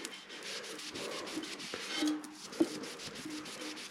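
Metal on a bike being polished by hand, a soft, close, repetitive rubbing and scratching with faint strokes and a couple of small knocks, quiet and without talking.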